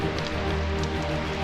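A garden hose sprays water onto motorcycle riding gear to imitate rain, a steady close hiss of droplets pattering on fabric, with no talk.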